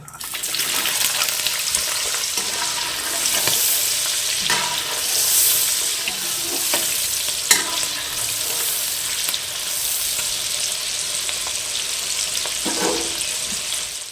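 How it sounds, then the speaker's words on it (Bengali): Capsicum, beans and carrots sizzle and crackle steadily in a hot wok, with occasional clicks and scrapes from stirring. "ক্যাপসিকাম, বিনস আর গাজরগুলোকে ভাজা হয়ে গিয়েছে।"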